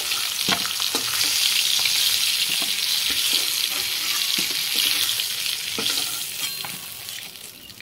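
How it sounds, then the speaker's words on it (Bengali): Pieces of rohu fish sizzle and crackle steadily in hot oil, a dense hiss close up, with occasional clinks of a utensil stirring and no voices. "মাছগুলো সব ভাজা হয়ে গেল।"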